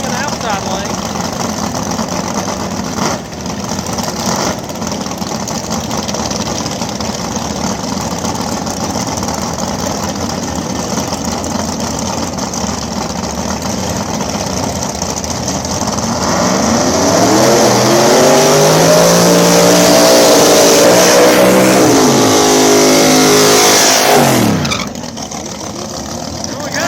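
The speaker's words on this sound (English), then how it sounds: "His small block nitrous Mustang in the outside lane." A small block nitrous Ford Mustang runs at a drag strip, a heavy engine rumble that swells into a loud roar with sweeping pitch as it launches and passes, with an announcer talking over it.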